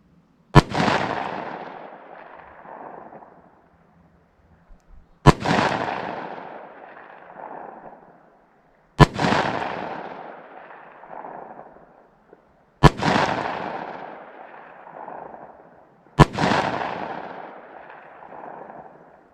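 Five separate handgun shots firing Hornady Critical Defense 44 Special ammunition at a range, each a sharp loud crack followed by a long decaying echo, spaced several seconds apart with quiet between.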